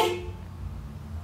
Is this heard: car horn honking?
yes